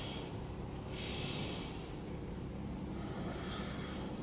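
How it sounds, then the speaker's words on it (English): Slow, deep breaths taken in and let out during a yoga pose, steady and fairly close, with soft airy swells and no talking. "Let's take three big breaths here."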